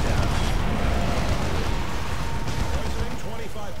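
Battle gunfire and explosive booms in Warhammer 40k Dawn of War 2, a dense, continuous barrage of overlapping blasts and rumbling impacts, loud and busy throughout, with game voices mixed underneath.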